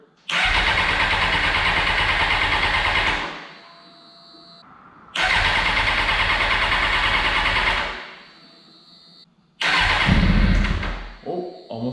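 Engine of a wrecked, rebuilt Suzuki GSX-R 600 motorcycle cranked over for its first startup: three long bursts of starter churning, about three seconds each with short pauses between, close and loud with no sign of catching.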